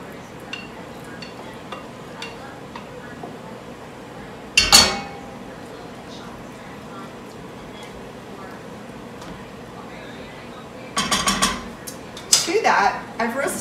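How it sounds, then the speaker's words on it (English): Steak tips and ground beef go into a pot, with a couple of short bursts of cookware clinking and scraping, one near the middle and a busier cluster near the end, over a quiet kitchen background. "I have the 1 pound of steak tips and then the 1 pound of Hamburg, which I'm just gonna go ahead and add in right now."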